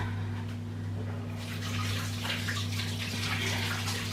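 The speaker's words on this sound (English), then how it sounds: "let me just wash my hands" Hands are washed under a steady stream of running tap water, a loud continuous splashing close by, with the flow growing fuller partway through over a low steady hum.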